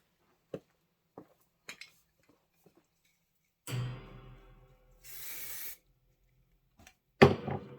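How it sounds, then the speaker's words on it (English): Two bursts of spray adhesive hiss nearby onto fabric and batting, separated by a pause, with scattered small clicks and handling noises around them. "I'm going to give both of these a little shot of spray."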